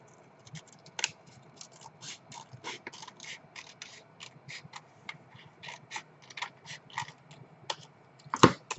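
A tomato paste cardboard box is cut up in a quiet room, giving a long run of small, crisp snips and crunches that build toward a louder final burst.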